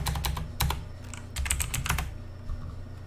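Fast, loud clatter of keys on a computer keyboard, close up, in quick bursts with short gaps, and no voices over it.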